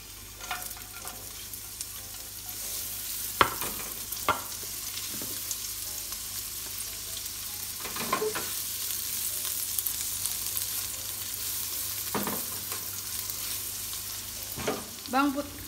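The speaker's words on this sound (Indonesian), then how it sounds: "Sisakan sedikit minyak goreng, tumis bawang putih dan bawang bombay." Oil sizzles steadily in a pan while garlic and onion are stir-fried, with occasional scraping clinks of a utensil against the pan.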